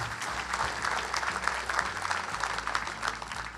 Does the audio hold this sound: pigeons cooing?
no